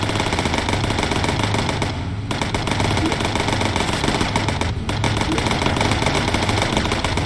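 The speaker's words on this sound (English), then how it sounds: "Audie Murphy firing?" Machine gun fire from a bomber's gunners in the World War II video game Bomber Crew, a dense, continuous loud rattle of rapid shots with two brief pauses, over steady engine drone.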